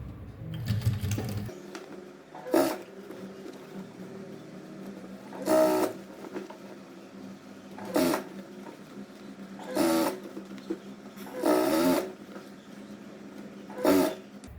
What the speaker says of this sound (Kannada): ಅಡ್ಜಸ್ಟ್ ಮಾಡ್ಕೊತ ಸ್ಟಿಚ್ ಹಾಕ್ಕೊಳ್ಳಿ